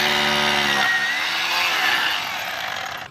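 A power drill bores holes for wall anchors while wooden molding is fitted without cement. One loud, continuous, harsh whirring burst lasts about three seconds, with its tone shifting early on and fading slightly at the end.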